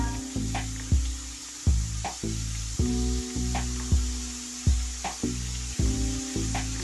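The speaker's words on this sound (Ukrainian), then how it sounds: "Чекаємо, поки масло наше розтоплюється." Butter melts and sizzles in a pan with a soft continuous hiss, broken by a regular series of sharp knocks and clatters about every half second.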